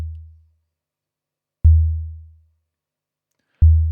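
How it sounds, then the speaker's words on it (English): A sine wave shaped like a drum sound, its peaks controlled by a limiter: low, pure tone bursts strike sharply and fade smoothly, repeating at a slow, even pace like a synthetic kick drum, with silence between hits. "This is a sine wave that I've modified to have the shape of a drum sound"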